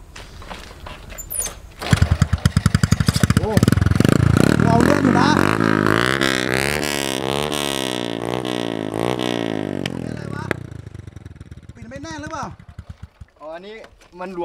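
A Honda Wave 110 motorcycle fitted with an aftermarket exhaust pipe starts and revs up, the engine note rising and falling through a long rev before dropping away, with people talking around it.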